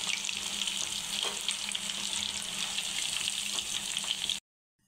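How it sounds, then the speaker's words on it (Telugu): Chicken pakoda pieces fry in oil over a lowered flame, giving a steady, even sizzle and bubbling that stays close and constant for over four seconds before cutting off abruptly. "అందుకని వేసేసిన తర్వాత కొంచెం ఫ్లేమ్ తగ్గించుకుంటే మెల్లగా చక్కగా ఫ్రై అవుతూ ఉంటాయి ఆయిల్లో"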